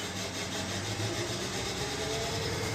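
A Vixen CNC wheel machine cuts an alloy wheel with a steady, unbroken grinding hiss that stays close and even from start to finish, with no voices.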